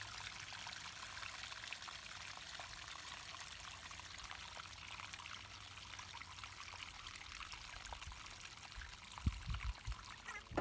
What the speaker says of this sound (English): the water coming out of the side